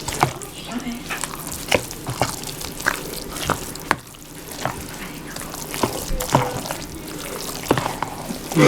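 Three eggs are stirred into a duck dressing by hand, making wet squelching and repeated light clicks of a utensil against the bowl, with some quiet talk in the background.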